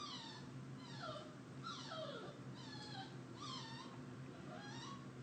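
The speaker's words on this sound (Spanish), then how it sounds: "Ahí está llorando mi perrita que quiere entrar." A small dog whines and cries repeatedly to be let in, a series of about six rising and falling high whimpers at a steady pace, faint and somewhat distant, with no talk.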